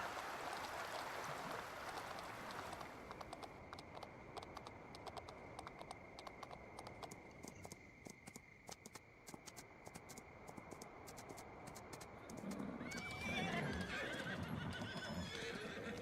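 Faint horse hooves clip-clop steadily with an occasional whinny in Farming Simulator 19, while keys tap in the background and a louder rush swells near the end.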